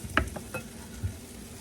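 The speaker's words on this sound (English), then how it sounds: "you're gonna slowly add in your egg mixture that you did earlier" Egg mixture poured into a hot pan at medium heat, giving a faint sizzle with a couple of soft clinks and scrapes early on, quiet and without talk.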